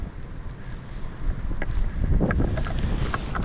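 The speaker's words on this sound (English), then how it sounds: "It's well below 0 Fahrenheit right now, with wind gusts at 45 miles an hour." Blizzard wind gusting at about 45 miles an hour in sub-zero cold in a winter city, a rushing, roaring buffet that builds and stays loud close to the microphone, heard from a fairly sheltered spot.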